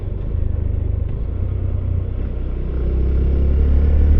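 A Hero Glamour X125 motorcycle rides in eco mode at about 35, its engine a steady low rumble up close that swells slightly louder toward the end, with wind noise and no talking.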